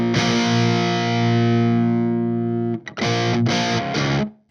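Heavily distorted electric guitar through the rhythm channel of a Peavey 3120 amp sustains a thick chord for several seconds, then hits a few short chugged chords before cutting off, loud and up close.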